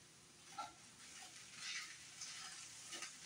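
93% lean ground beef browning in a pan, a soft steady sizzle with light crackles and occasional stirring scrapes, faint and close.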